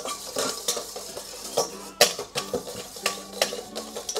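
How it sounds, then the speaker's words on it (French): A utensil clinks and scrapes rhythmically against a bowl in quick strokes, stirring egg yolks for a birthday cake, close and fairly soft, with no talking. "tu vas prendre les jaunes d'œufs, tu les mets dans le saladier et tu les remues un petit peu"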